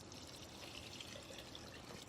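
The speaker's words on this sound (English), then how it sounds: "I'm going to add 6 cups of water." Six cups of water poured into a pot for chicken soup with sweet potatoes in a test kitchen, a steady, soft splashing stream running unbroken and close, with no talking.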